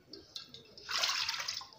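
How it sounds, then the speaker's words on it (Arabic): A cup of water is poured into a cooking pot, a short, soft splashing gush after some quiet faint clinks, close by. "وبعدين اقوم مزودة كوبايتين المية."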